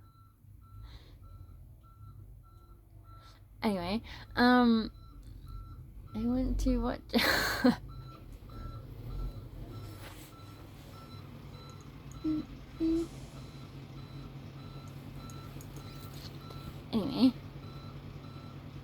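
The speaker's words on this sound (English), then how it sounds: "I can hear the bin truck backing up." A garbage bin truck reverses with its backup alarm beeping in short repeated bursts at a moderate distance, along with engine rumble, while a person talks over it at intervals.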